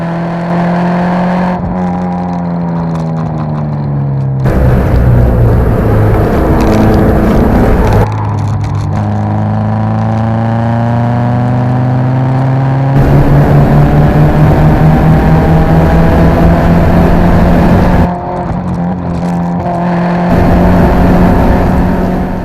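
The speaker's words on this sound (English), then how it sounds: "I'm driving a 1997 Subaru Legacy L station wagon with a fairly decent suspension" A 1997 Subaru Legacy L station wagon laps a race track, its engine droning loudly from inside the cabin. The pitch climbs and drops through repeated gear changes and throttle lifts with no talking.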